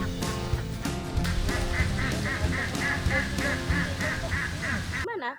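A flock of laying ducks on a farm in the village of Gelebak Dalam quacking together, a loud continuous overlapping chorus of nasal calls close by, ending abruptly.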